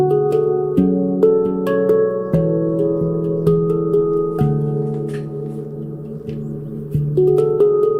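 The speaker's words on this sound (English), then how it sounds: "I'm gonna put some of the handpan music on, just so we can get the mood going." Handpan music plays, with clear ringing metallic notes struck one after another in a slow, resonant melody that sustains and overlaps, fairly close and with no voices.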